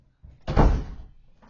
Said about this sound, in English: going to close my door.